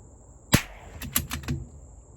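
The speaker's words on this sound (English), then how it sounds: "Let's see if we can hit them at 350 with a 22 long rifle." Distant .22 Long Rifle shots are followed by faint metallic pings of hits on steel targets at 350 yards in a cornfield: one sharp crack, then a quick run of several light clicks.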